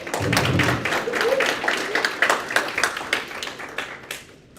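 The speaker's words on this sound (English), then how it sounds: "You can clap for him too." Clapping from an audience at a student government general body meeting, starting as a fuller burst of applause and thinning into scattered individual claps before fading out.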